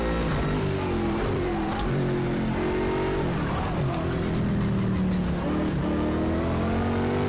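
A loud Bentley GT3 race car engine revs and shifts through gears continuously at close range in Project Cars 2, with rising and falling engine pitch throughout.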